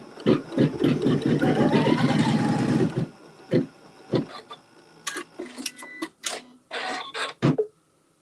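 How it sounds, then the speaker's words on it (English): A sewing machine stitching a quilt seam, a steady close whirring run of about three seconds, followed by quieter clicks and scattered handling taps. "Keeping with the same thread, we'll stitch that seam."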